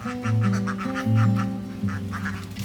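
Ducks on a village duck farm in Karedok quack loudly and repeatedly in overlapping bursts, a close, busy flock with no voices.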